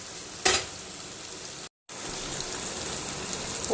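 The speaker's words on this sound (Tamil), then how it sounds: "சும்மா லேசாக அப்படியே ஒரு உதக்கிட்டு அப்படியே கிழங்கு போட்டு பறிச்சிடலாம்." Chopped onion sautéing in a pan before tapioca root goes in, a steady broadband sizzle with a sharp stirring scrape near the start and a brief gap midway, close and fairly loud, with no voices.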